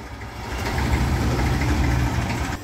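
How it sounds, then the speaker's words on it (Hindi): A tractor engine idles steadily with its PTO shaft turning slowly, a continuous low rumbling throb held at even, fairly loud level throughout, with no talking. "पीटीओ सॉफ्ट घूम रही है धीरे धीरे।"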